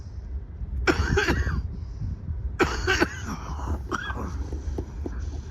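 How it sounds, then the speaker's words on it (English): A person in a coughing fit lets out two harsh bursts of coughs close to the microphone, separated by a pause, followed by smaller throat noises against a low background rumble. "coughing up a storm here"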